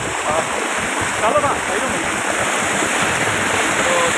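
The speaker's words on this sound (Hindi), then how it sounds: "बहुत ही खूबसूरत दृश्य है बहता हुआ पानी।" A flowing stream near a village makes a steady, loud rush of water that fills the whole clip, with a brief spoken phrase over it.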